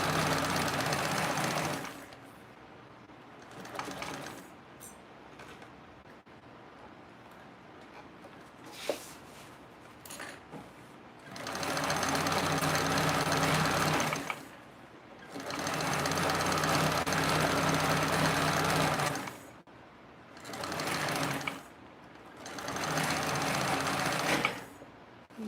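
A sewing machine runs in several bursts, stitching and basting a seam about 1/8 inch from the edge with a backstitch, loud motor whirring separated by short pauses and no talk.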